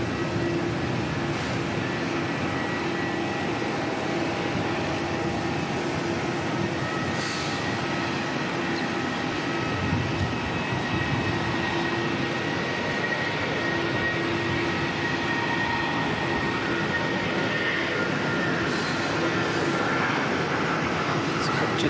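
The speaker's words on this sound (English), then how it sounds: "Jetstar 233 heading up to Christchurch" A Jetstar airliner departing Auckland Airport for Christchurch produces a steady broad roar that holds for over twenty seconds at moderate distance, with faint voices talking underneath.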